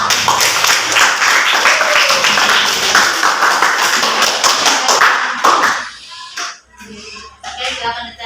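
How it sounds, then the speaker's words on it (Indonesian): A class claps after a group presentation, a dense burst of applause that gradually thins into a few scattered claps and faint voices. "kita boleh tepuk tangan."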